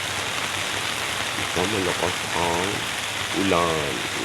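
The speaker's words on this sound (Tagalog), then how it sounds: "Ito malakas ang ulan." Heavy rain roars steadily near a home, a thick wash of falling water under several short spoken phrases.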